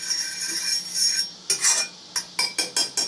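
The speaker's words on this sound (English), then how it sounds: "So let me just kind of whisk this around a little bit." A fork stirs Spam around a pan on a gas stove, making sharp metallic clinks and scrapes in short bursts that quicken toward the end.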